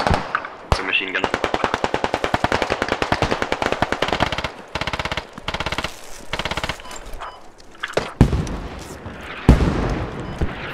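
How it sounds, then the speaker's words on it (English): Machine gun fire in the video game Squad, long rapid bursts of loud, close automatic shots with short pauses between them, followed by heavier booms toward the end while players talk over it. "It's a machine gun."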